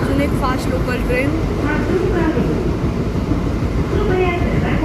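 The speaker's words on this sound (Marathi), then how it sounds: "आणि अजून एक फास्ट लोकल ट्रेन." A fast local train rushes past close by, its steady rumble of wheels on rails sounding from a moving slow local, with faint voices and scattered clatter.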